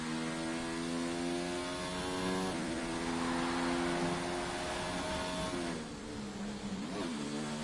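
A Formula 2 race car engine in a racing video game drones loudly and steadily through a flying lap around the Spain circuit, its pitch shifting at gear changes, with no talking.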